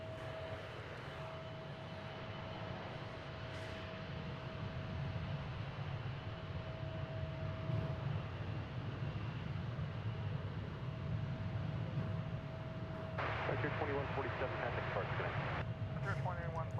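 Frontier Airlines jet departing DFW Airport bound for Denver, a distant steady engine roar swelling as it climbs out, with a person talking over it.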